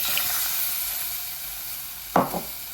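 Aubergine curry fries in a pan with spice powder, a steady close sizzle and hiss, then a short louder splash and bubbling burst as milk goes in near the end.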